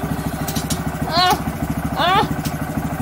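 Small manual motorcycle idling with a steady low pulsing beat while a learner practises the half-clutch, the engine briefly revving twice with a rising whine over the chugging idle.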